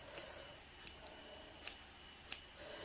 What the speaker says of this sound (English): Don't be frightened to cut in.